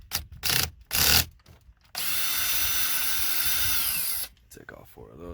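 Power drill driving out the 7mm corner screws holding a Ram 1500 dash radio, with a couple of short bursts and then a sustained whine of about two seconds, close up, after brief talk.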